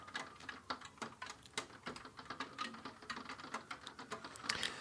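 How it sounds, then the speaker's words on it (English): Rain patters steadily in a dense, even stream of light taps, fairly faint and continuous with no voices. "Ron, it's raining."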